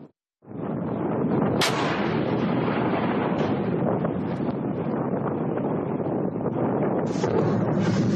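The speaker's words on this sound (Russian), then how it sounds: "во второй попадает снаряд, слышен взрыв" A sudden loud blast as a shell hits a helicopter erupts from silence into a long, roaring wall of noise with heavy wind buffeting, a sharp crack partway through.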